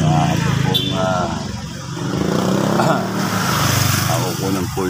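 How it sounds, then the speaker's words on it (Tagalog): A garbage truck collects rubbish on a busy street, its engine idling and revving amid passing traffic, with a person talking close by throughout. "nakukunan po yung truck na yan na humakot ng basura"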